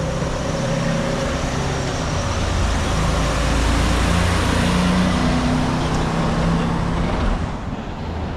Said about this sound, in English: Like this big truck.